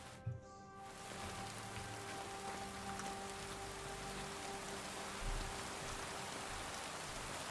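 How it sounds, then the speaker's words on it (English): Steady rainfall in Kingdom Come: Deliverance II, a dense continuous hiss of drops on surfaces, even and fairly close, after a brief muffled bump at the start. "is raining again"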